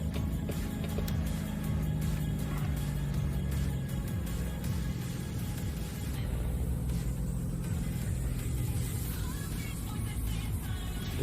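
Truck engine in American Truck Simulator, a steady low droning rumble that runs throughout with music layered on top and no talking.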